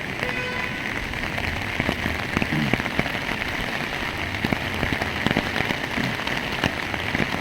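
Heavy torrential monsoon rain pours down in Nashik, a steady dense hiss of drops on surfaces with scattered sharper splats, loud and continuous throughout with no voices.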